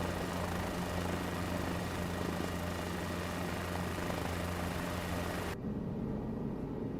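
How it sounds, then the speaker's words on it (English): A helicopter engine and rotor in Microsoft Flight Simulator 2024 drone steadily and loudly in flight, then cut abruptly to a quieter hum near the end. "It's a cool helicopter though, I gotta say."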